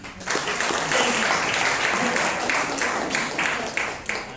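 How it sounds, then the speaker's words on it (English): An audience applauds steadily at a Toastmasters table topics session, a dense burst of clapping starting abruptly and holding for several seconds before thinning at the end. "Big round of applause for Jesse"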